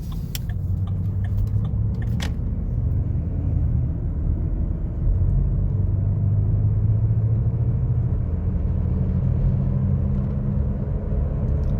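Engine of a 2010 Ford Explorer idling, a steady low rumble heard from close by, with a few light metallic jingles like keys early on and no speech.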